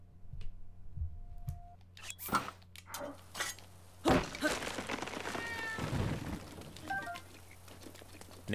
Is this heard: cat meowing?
yes